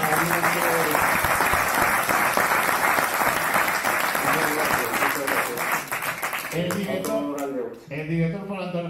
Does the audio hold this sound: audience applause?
yes